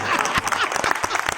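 Audience clapping at a Hindi comedy poetry gathering (hasya kavi sammelan) in Shajapur, a brief burst of crowd applause with a voice mixed in.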